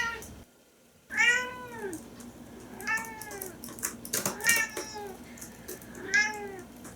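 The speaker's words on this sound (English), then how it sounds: "Would you please stop meowing so much?" A cat meows insistently four times, each call drawn out and close by, with short pauses in between.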